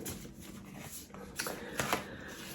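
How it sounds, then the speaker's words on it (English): Tarot cards riffle and slap together in a few quick bursts, soft and close, with a faint steady background hiss between them. "I'm shuffling."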